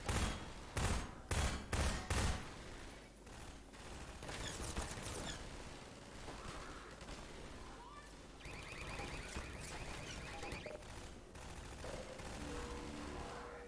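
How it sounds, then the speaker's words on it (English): Turret gunfire in the Half-Life 2 video game comes as a few sharp, rapid bursts at the start, then gives way to quieter, busy mechanical and combat noise that carries on at a low level. "Can we take out that turret there?"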